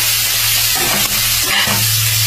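Chicken gizzard strips fry in a pan: a continuous bright sizzling hiss with a low hum beneath and a few brief clatters midway.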